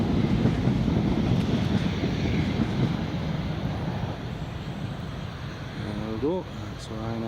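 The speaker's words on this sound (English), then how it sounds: "We've got the Ryanair 737-800 just taxiing now, coming along to runway" A Ryanair Boeing 737-800 taxis toward the runway at Newcastle International Airport, giving a steady, fairly distant low roar mixed with wind noise, with a voice talking over it.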